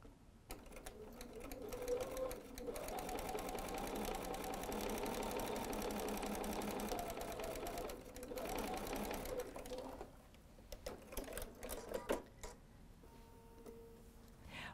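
A sewing machine stitches fabric for a quilt-as-you-go mug mat in a steady rapid run lasting several seconds, pauses briefly, then resumes in shorter bursts, close and moderately loud.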